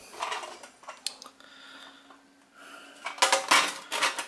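Metal clatters and scrapes as a pan of roasted acorns is taken out of the oven, with scattered light clinks early and a louder burst of rattling toward the end, close and without talk.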